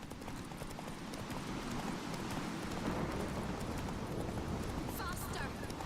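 Roach the horse gallops in The Witcher 3 video game, steady clip-clop of hooves running continuously under dense game sound and music, with a rider's voice calling out over it.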